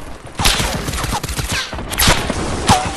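Shotgun blasts in Fortnite during a 50 v 50 match, several sharp booming shots spaced across the moment amid other game noise, with a voice faintly talking underneath.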